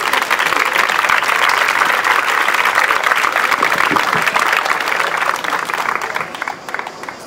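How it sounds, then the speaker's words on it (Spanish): An audience applauds a poet at a reading against reduced opening hours in a regional library, steady dense clapping filling the room before thinning slightly toward the end. "Bueno, pues un aplauso para ella."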